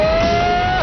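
An M1 Abrams tank, a 70-ton vehicle on rubber track pads, rolling down a slope with the park brake released, giving a loud continuous mechanical drone with a steady whine throughout.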